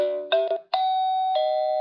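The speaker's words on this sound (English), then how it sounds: "There we go, ding dong, there's your doorbell, ding dong." A Wyze Video Doorbell chime rings indoors, a clear bright two-tone ding-dong repeated with sustained ringing tones, loud and alone with no talking.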